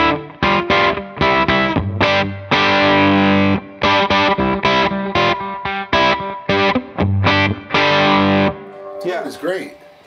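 Versoul Raya electric guitar with gold-foil-style pickups strummed in bright, jangly chords with a chorus-like shimmer, loud and close in rhythmic bursts, ending in a brief swirl of noise.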